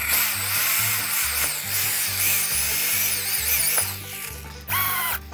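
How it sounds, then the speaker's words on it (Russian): A cordless screwdriver drives a screw into a flat slate sheet for a garden bed, with repeated short motor whirs in a steady start-stop rhythm, close and loud, and a brief clatter near the end. "Беру шуруповерт, кручу."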